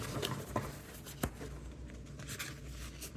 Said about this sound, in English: Sometimes it's hard to shuffle these.